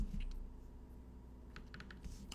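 Typing on a computer keyboard, a short burst of soft, close key clicks at the start and another quick run of taps near the end, with no talk.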